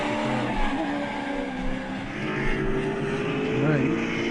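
Trans Am race cars, a Mustang among them, run together at a race meeting, their engines a steady loud drone with some tyre noise.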